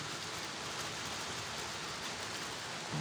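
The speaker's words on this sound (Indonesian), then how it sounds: "Maaf ya kalau ada gangguan suara hujan." Steady rain falls in a close, even hiss with no gaps or pauses, a soft uniform patter across the whole stretch and no voices.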